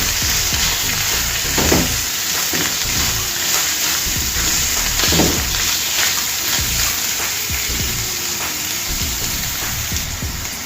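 Coconut paste being stirred into green masala chana in a pan, a bubbling sizzle with wet squelching spoon strokes and a few louder scrapes, close and continuous.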